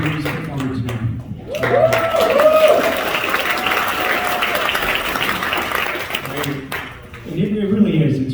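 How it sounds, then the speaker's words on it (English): Sustained audience applause at a comedy show fills the room, steady and loud, with talking and cheering voices mixed in throughout. "So how about a round of applause"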